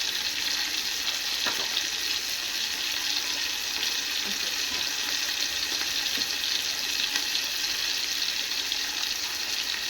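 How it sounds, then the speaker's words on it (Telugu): Spices, garam masala, coconut powder and cashew-poppy seed paste frying in a pan for pulao, giving a steady, even sizzle with faint scraping touches throughout and no voices. "వేగేంత వరకు వేగనిద్దాము"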